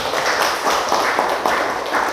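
Applause from a class of students, a brief, steady patter of clapping hands, close and fairly loud.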